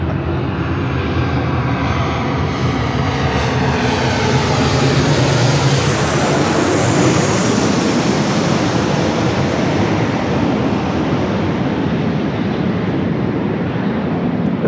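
An airplane arriving or departing at LAX roars loudly and steadily for about fifteen seconds. The broad engine noise swells and shifts in pitch as it passes close by.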